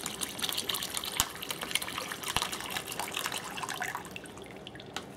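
About 12 to 16 ounces of water poured into a plastic bag for a chamber vacuum sealer, a quiet steady splashing trickle with small drips and gurgles, close by and alone.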